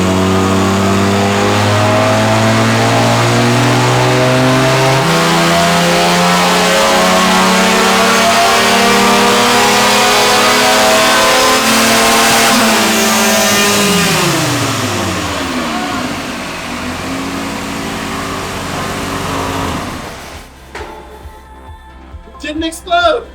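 Car fitted with a $300 Amazon supercharger revs hard on a dyno, engine pitch climbing steadily for a long loud pull, then dropping off and winding down near the end, with voices in the background.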